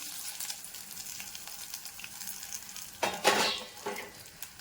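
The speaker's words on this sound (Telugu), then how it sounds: "బాగా ఇలాగా వేగిపోయేదాకా మనం ఇట్లా వేపేసుకోవాలి" Dried red chillies snapped in half frying in a pan, a steady close sizzle with a brief burst of stirring and scraping against the metal partway through.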